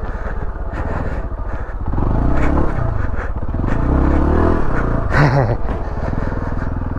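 A dirt bike engine drones and revs while being ridden, loud and continuous with rising and falling pitch, a brief scrape or clatter near the end.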